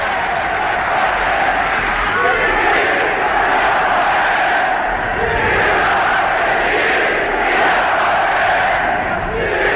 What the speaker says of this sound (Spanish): El mitin se cerró con una gran ovación.